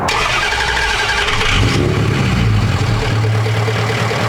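A large 6.0L Powerstroke diesel truck engine with new injectors and air still in the fuel lines cranks and turns over, then catches and runs with a loud, rough, rumbling idle close by.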